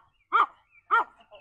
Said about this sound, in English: Oh, he sees another dog.